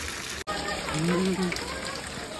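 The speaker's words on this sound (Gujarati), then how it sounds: "ફૂલ વરસાદ આવી ગયો છે" Heavy monsoon rain falls steadily onto a rooftop terrace, a continuous broad hiss that fills the whole stretch while a voice talks over it.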